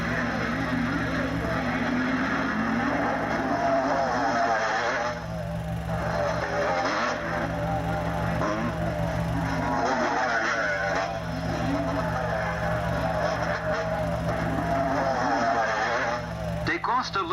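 Motocross motorcycles from the 1972 Grand Prix, including Maico, CZ and Husqvarna machines, race with a continuous loud engine drone for the whole stretch, with a voice running over the top.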